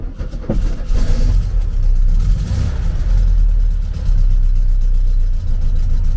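A VW Beetle engine cold-starting on a foggy early morning, catching after a brief crank and settling into a loud, steady, throbbing idle, close up with no talking.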